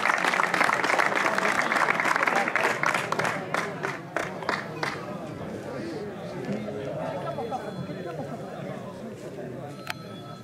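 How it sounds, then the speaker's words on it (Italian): A crowd gives a loud round of applause for the drivers at a mini slalom motorsport event in Torano Castello. The clapping fades after a few seconds into a murmur of crowd chatter and voices. "quindi un grosso applauso"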